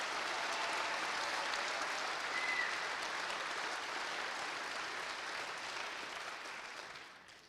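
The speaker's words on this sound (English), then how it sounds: "Let's give them a big round of applause." Steady, broad audience applause rolls through a law school commencement ceremony honoring the UW College of Law faculty, even and sustained for several seconds before gradually fading at the end.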